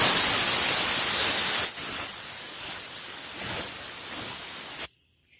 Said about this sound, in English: all we're going to do this first time is just come in here and put a coat over the filler spot.